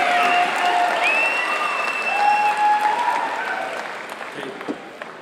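A university convocation audience applauding, a dense sustained wave of clapping that slowly tapers off, with whistles and scattered cheers mixed in.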